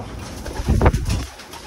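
Pigeons cooing softly in a short burst, with faint rustling and ambient noise around them; no talking.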